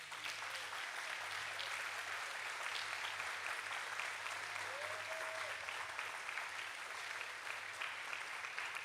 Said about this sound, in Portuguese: Dê a melhor salva de palmas a esse Deus